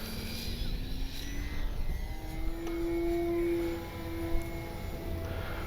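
A Durafly Tundra V3 RC bush plane flies overhead, its electric motor whining steadily and rising in pitch at mid-flight, moderately distant against outdoor background noise.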